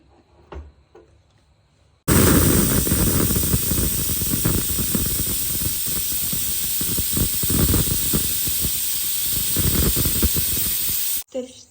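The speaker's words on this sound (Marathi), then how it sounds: "आणि तीन शिट्ट्या होऊन देऊ आपण" A pressure cooker of drumstick soup with tomato and garlic vents steam, a loud, sustained forceful hiss starting abruptly after quiet handling sounds and cutting off sharply near the end.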